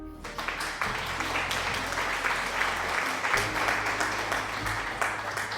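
Steady applause and clapping from a stream sound alert fill the whole stretch, even and moderately loud, with a faint hum underneath.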